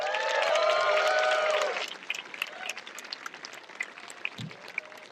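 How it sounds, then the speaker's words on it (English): An audience at the Western States 2022 ultramarathon bursts into loud applause and cheering for about two seconds, then it quickly dies down to scattered crowd noise and light background chatter. "give them a round of applause right now"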